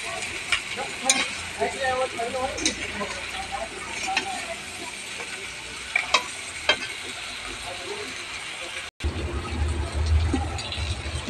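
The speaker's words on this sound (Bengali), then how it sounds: "এবারে আরও 5-7 মিনিট ভালো করে ভেজে নেব।" Mutton curry with spices frying and being stirred in a pan, a steady sizzle with repeated scraping strokes of a spoon, close and continuous with a brief cut near the end.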